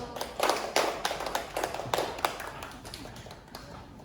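Light, scattered applause from a small group of students in a classroom, faint and somewhat distant, with uneven claps that thin out toward the end.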